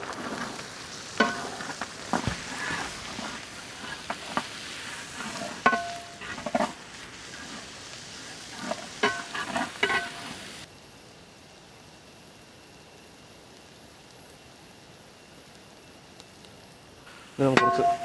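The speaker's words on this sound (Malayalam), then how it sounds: "ഇഞ്ചിയും വെളുത്തുള്ളിയൊക്കെ ഒന്ന് മൂത്ത് വരട്ടെ." Ginger and garlic frying and sizzling in a pan while being stirred, with soft scraping and crackles for about ten seconds before the sound drops to near silence, then a brief burst of sizzling returns.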